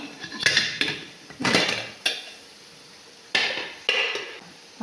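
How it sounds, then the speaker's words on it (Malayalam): A metal lid vessel is set onto a steamer pot while making ilayada, giving several sharp clanks and clatters in two clusters, fairly close, with quiet gaps between. "അതിൻ്റെ മുകളിലേക്കാണ് നമ്മൾ അടപ്പ് പാത്രം വെക്കുന്നത്"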